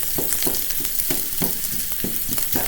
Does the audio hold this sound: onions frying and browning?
yes